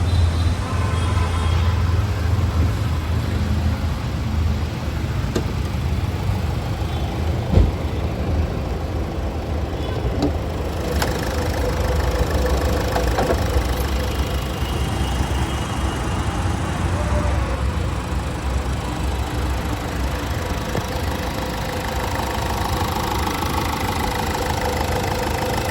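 A 2016 Ford Figo Aspire diesel Titanium idling with the bonnet open: a loud, steady low rumble and rattle that runs unbroken throughout.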